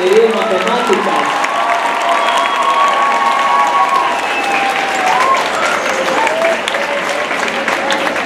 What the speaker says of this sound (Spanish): les demos un aplauso a nuestros mentores